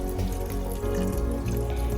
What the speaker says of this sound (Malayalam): ഇനി നമുക്കിതിലേക്ക് നമ്മൾ നേരത്തെ റെഡിയാക്കി വെച്ചിട്ടുള്ള കോൺഫ്ലവർ ഒഴിച്ചു കൊടുക്കാം